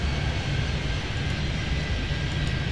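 Simulated airliners in the airport traffic-control game Airport Madness 3D, set at Miami, give a steady, loud broadband jet-engine roar with a low rumble, continuous across the whole moment with no talk over it.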